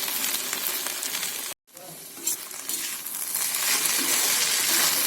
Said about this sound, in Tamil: பாருங்கள், நல்லா வதங்கிடுச்சு.